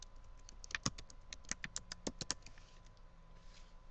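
Fingers tap out a short burst of keystrokes on a computer keyboard, entering a file name; quick, close, uneven clicks cluster in the middle, then trail off into quiet room tone.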